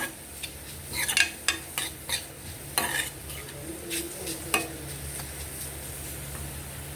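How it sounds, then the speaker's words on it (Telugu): Cumin seeds sizzle in a hot pan for carrot rice while a spoon scrapes and stirs them, sharp metallic clicks landing irregularly over a constant frying hiss. "కొంచెం జీలకర్ర వేసుకొని ఒకసారి తిప్పుకున్నాం"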